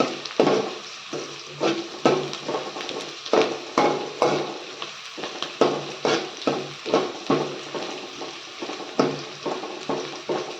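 Curry leaves saute in a pan for a capsicum egg fry, a soft sizzle under a steady rhythm of spatula scrapes and taps against the pan, close and regular.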